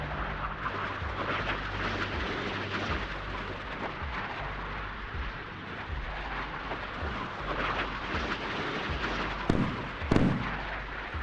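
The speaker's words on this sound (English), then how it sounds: "You can see the ship down there launching missiles, likely to defend itself more than anything." Missiles launching from a warship in a naval combat game, heard as a dense, continuous roar of blasts and rumbling booms with sharper cracks near the end.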